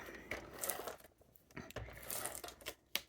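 An ATG adhesive tape gun applying dry adhesive while acting up, giving quiet, close mechanical clicks, rattles and rolling tape sounds in short uneven bursts.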